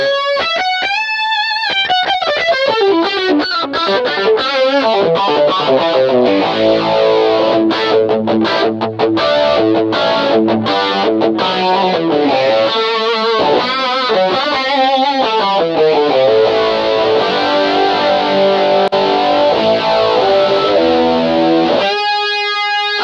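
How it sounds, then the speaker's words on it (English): Electric guitar played through an MXR Rockman X100 analog tone processor in edge mode with input gain maxed: heavily saturated, distorted chords and lead runs, loud and sustained, with a chorus-like shimmer and no talking. "here is the edge mode with the input gain all the way, just to hear the difference in saturation"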